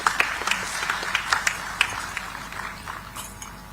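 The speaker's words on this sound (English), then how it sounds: "Let's welcome her with a huge round of applause" Applause at a digital technology summit welcomes a speaker to the stage: scattered, distinct claps with sharp individual hits that thin out over a few seconds, with a faint ringing tone late on.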